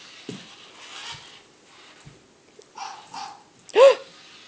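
A single sharp bark rings out near the end, close and loud, after some quiet rustles and brief murmurs.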